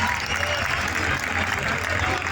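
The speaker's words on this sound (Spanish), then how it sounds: "un fuerte aplauso para Manu Gas" Steady, close crowd applause at a MotoGP Valencia 2022 fan welcome event, cheering for rider Manu Gas, an even wash of clapping throughout.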